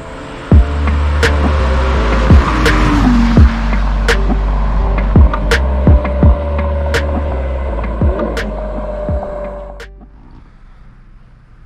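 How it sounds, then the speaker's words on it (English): A Lamborghini Gallardo engine hums with a steady low rumble and shifting tones as the car is driven, with a few sharp clicks along the way before the sound drops off near the end. "today is the day that we're going to take the first drive together in the Lamborghini Gallardo"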